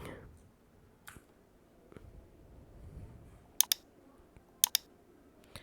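A few sharp computer mouse clicks, single and in quick pairs, sound close by while a Discord game is opened, with quiet background noise between them.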